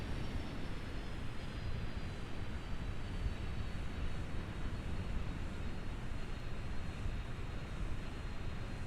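Aircraft engine in Kerbal Space Program throttling back on approach to a runway landing, a steady, even drone held at the same level throughout, with no talk.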